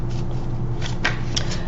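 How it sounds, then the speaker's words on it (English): Tarot cards shuffled briskly by hand on a table, a short run of riffling bursts, close and clear with no talk. "Let me shuffle these up real good."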